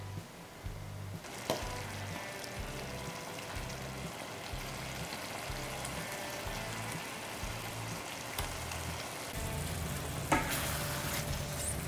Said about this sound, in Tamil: குழம்பு நல்லா கொதிச்சிட்ருக்கு. இப்போ வந்து நம்ம டிஷ்ஷோட ஹீரோ பன்னீரை உள்ளே சேர்த்துடலாம்